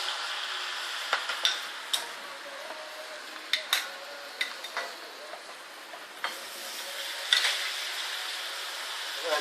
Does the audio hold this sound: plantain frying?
yes